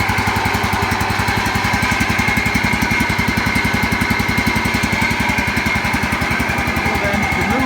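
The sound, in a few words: Ferris Hydrowalk SD 32 commercial mower engine running after cold start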